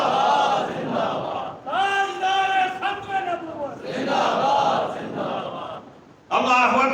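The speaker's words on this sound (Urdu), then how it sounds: "یا محمد یا رسول اللہ یا رسول اللہ دے نعرے لا رہے نے سارے" A large crowd at a celebration in Madinah chants religious slogans in unison, loud rhythmic call-and-response phrases rising and falling, with brief pauses between shouts and a renewed burst at the end.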